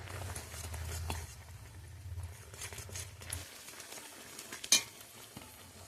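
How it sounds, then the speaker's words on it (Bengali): Rice flour is stirred into a mixture in a pan, with soft scraping and gentle sizzling close by and a low hum underneath, then one sharp utensil clink near the end. "চালের গুঁড়োটা ধীরে ধীরে দিয়ে দেবো অল্প অল্প দেব অল্প অল্প মেশাবো"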